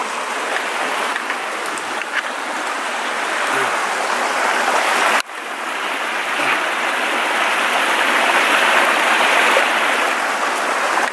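Mountain brook in the Erzgebirge, a loud steady rush of flowing water, broad and continuous, heard close with no break apart from a brief dip midway.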